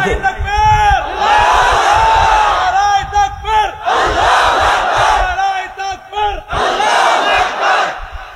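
A large crowd at a religious sermon shouts takbir in unison, with loud, sustained chanted calls in repeated waves separated by brief pauses.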